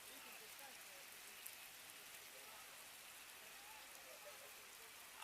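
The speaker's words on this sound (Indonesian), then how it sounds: "Hujan deras" Heavy rain falls on a football pitch during an RMC FC versus Mandai FC match, a steady, even hiss of raindrops that stays faint and distant, with no clear break for the whole stretch.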